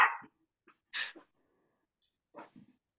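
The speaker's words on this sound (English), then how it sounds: "so she's barking at her. She's a 5-pound Chihuahua" A 5-pound Chihuahua barks indoors in a few short, separated yaps, the first loudest, then quieter bursts with brief whimpering gaps between.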